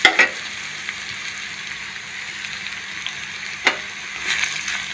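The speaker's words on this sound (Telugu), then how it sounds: "పచ్చివాసన పోయేదాకా వేయించుకోవాలి." Ginger paste frying with onions in a pan for egg curry gives a soft, steady sizzle, faint and even, broken by a couple of brief clinks of stirring.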